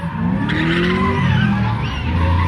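Tires squeal and skid over a steady roar of car engines nearby on a motorshow skid pad, with shifting whining pitches as vehicles slide around.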